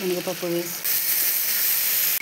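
Chana dal fries in hot oil with a bright, steady sizzle and hiss, preceded by a brief stir; a voice speaks briefly at the start, then the frying carries on alone.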